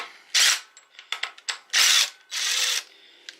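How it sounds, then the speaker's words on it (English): An impact gun zaps 10mm bolts off a pit bike, giving several loud, close whirring bursts, some long and some short and choppy, separated by brief pauses. "So I'm gonna take my gun, 10mm, zap these two off."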